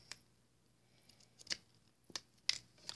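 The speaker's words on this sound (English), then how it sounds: "your scissors, cut off the excess tape." Scissors snip off excess tape on a homemade paper squishy, a few sharp quiet clicks spaced over a couple of seconds against a near-silent room.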